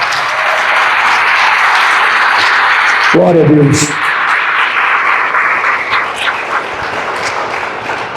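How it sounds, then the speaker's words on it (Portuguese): A church congregation applauds loudly and steadily for Jesus, a dense wash of clapping throughout, with a voice briefly speaking over it partway through. "Pode aplaudir a Jesus bem forte"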